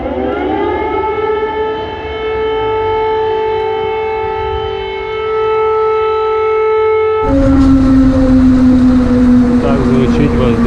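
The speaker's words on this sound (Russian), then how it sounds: "Так звучит воздушная тревога." An air raid civil defense siren in Ukraine wails steadily and loudly, holding a long sustained tone before shifting to a lower pitch, with no talking.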